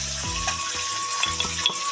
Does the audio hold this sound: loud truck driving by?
no